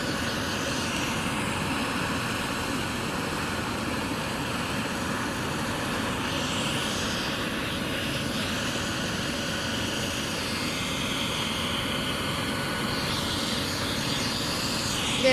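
A helicopter near Braden School Road in Chippewa, its rotor blades slowing down, gives a steady, loud, continuous engine and rotor drone that holds level throughout with no talk.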